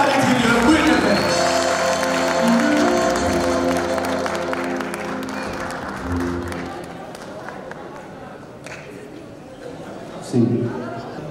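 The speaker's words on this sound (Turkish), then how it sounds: "belediye başkanı Atilla Aydıner Beyefendi alkışlarla davet ediyorum" An audience applauds at a municipal gathering with a mayor in Bayrampaşa, clapping and crowd chatter filling the hall before tapering off, with talk over it.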